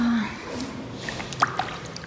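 A hand dips into the unheated outdoor swimming pool at the Iberotel Palace hotel in Sharm el-Sheikh, making faint drips and small sloshing splashes against a low, steady background hum.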